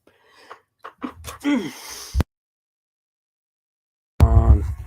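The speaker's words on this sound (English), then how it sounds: "I didn't think you guys wanted to hear me sneeze" A single sharp sneeze bursts out loud and close, followed by a pause, with someone speaking briefly before it.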